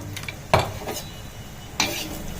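A bhakosa mixture of dal and spices is roasted in a pan, with a low sizzle and two distinct loud scrapes of a spoon on metal as it is stirred, close and without speech.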